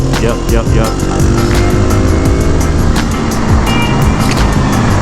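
A Husqvarna 701 Supermoto single-cylinder engine revs loud and close throughout, with rising and falling pitch as it downshifts while entering a corner, wind noise over it.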